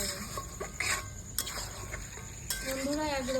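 Tomatoes and chicken being stirred in a pan while cooking Lahori chicken, with scattered clinks and scrapes of a utensil against the metal and a soft background hiss.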